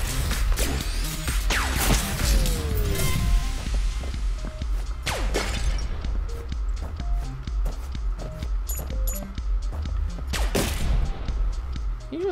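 Rapid gunfire in the video game Neon Abyss, busy and continuous across the whole stretch, with repeated shot bursts, whooshes and crashes layered over a dense game soundtrack.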